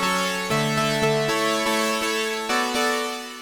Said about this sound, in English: it starts to sound more like a lead instead of a pluck.